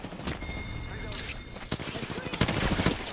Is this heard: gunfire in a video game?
yes